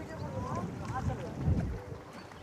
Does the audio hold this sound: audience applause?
no